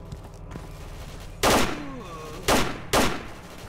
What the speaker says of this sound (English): looks like they're all now trying to shoot